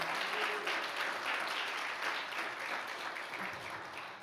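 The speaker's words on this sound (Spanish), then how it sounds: "Démosle un aplauso grande a Dios." Church congregation applauding during a sermon, a dense, steady wash of many hands clapping at even strength throughout, slightly fading toward the end, with no voices over it.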